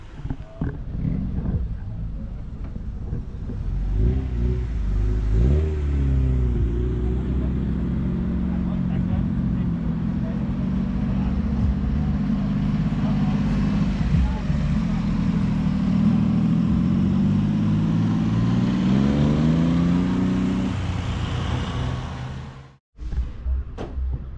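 A turbocharged K-swap car engine at a cars and coffee meet hums and revs steadily for a long stretch, loud and close, with people talking over it before it briefly cuts off near the end.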